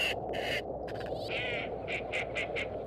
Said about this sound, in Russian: На осколке ледового поля отдыхает стая шелохвостей.